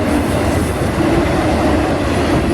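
A CSX autorack freight train rolls past close by as a loud, steady rumble of wheels and railcars, with no break for the whole stretch.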